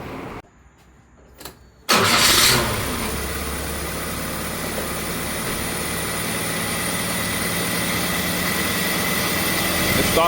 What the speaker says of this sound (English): start it up, see what it sounds like now.